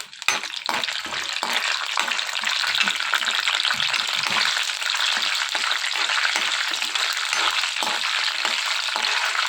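Chana dal and urad dal frying in hot oil in a pan, a close, steady crackling sizzle with small rattling bursts as the lentils shift, continuing throughout.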